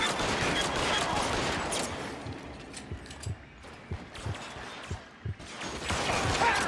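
Rapid video-game gunfire from LA Noire, dense shooting at first, then scattered single shots and impacts before the firing picks up again near the end.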